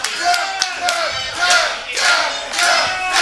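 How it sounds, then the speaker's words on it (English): A crowd at a ring fight roars and cheers in loud, swelling waves with shouted whoops, rising and falling several times over a few seconds with no clear speech. "The crowd wants it."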